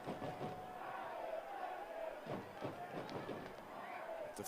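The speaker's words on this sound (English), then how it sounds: "Crowd chanting his name, Reddington." Stadium crowd at a soccer match between CFC and Michigan Stars FC chants a goalkeeper's name late in the 89th minute, a steady rhythmic roar of many voices filling the space with a few sharper bursts over it.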